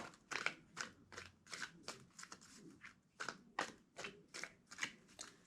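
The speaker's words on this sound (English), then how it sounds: "Two more shuffles." Cards are shuffled in a quick run of soft riffling bursts, about a dozen in a steady rhythm, close and quiet.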